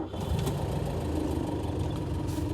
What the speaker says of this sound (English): so start the engine.